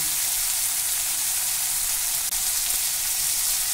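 Green tomatoes fry in a pan with a steady, loud sizzle that carries evenly throughout, with no voices.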